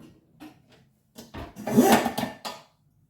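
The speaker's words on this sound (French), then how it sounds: "Je vais sortir une poêle." A frying pan is pulled out and handled in a home kitchen, with wooden rubbing and scraping, a drawer-like slide and a clattering metallic burst before things go quiet.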